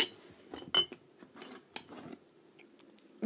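Old glass bottles, including Duraglass and glass Jergens lotion bottles, are handled and set down. They make a string of irregular, close clinks and knocks with quiet pauses between, and nobody speaks.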